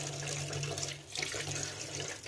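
Household dishes are washed under a running tap, with a steady close stream of water splashing over them and brief clinks as they are handled, and no speech.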